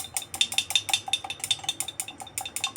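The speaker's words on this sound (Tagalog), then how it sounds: "Kaya mix ko siya." A utensil rapidly scraping and clinking against a bowl while stirring an olive oil home remedy mixture, a fast, steady rhythm of bright taps, close and alone.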